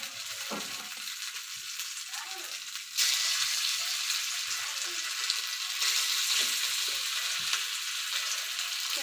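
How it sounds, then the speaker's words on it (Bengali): Chicken for tawa fry goes into hot oil, setting off a steady, loud sizzle and crackle of frying that swells suddenly partway through and keeps going without any talk. "এই যে চিকেনগুলো আমি দেবো আস্তে আস্তে তেলের মধ্যে।"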